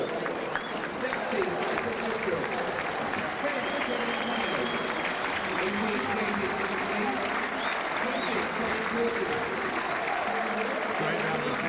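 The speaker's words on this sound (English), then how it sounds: "Great round of applause for the gaffer." A crowd at a Burnley versus Coventry City football match applauds the manager. The clapping is a steady, fairly distant wash that runs the whole time beneath speech and crowd murmur.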